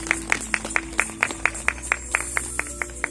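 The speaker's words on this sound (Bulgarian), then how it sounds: "Аплодисменти за него." Audience clapping for the mayor at the opening of a crafts and arts centre in Ignatievo, Bulgaria, heard as a steady rhythmic beat of claps that are fairly loud, over a constant hum.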